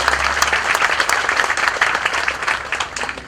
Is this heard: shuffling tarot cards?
no